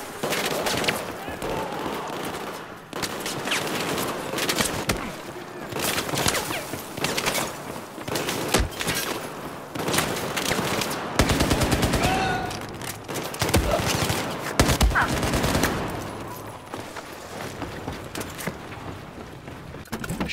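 Rapid FAMAS rifle bursts crackle through a Battlefield 4 match on the Shanghai map, dense overlapping gunfire with explosions and other weapons firing throughout, loud and continuous.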